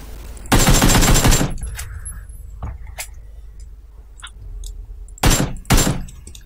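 Automatic gunfire in the PUBG video game: a loud, rapid burst lasting about a second, then quieter scattered sounds, then two more short bursts near the end.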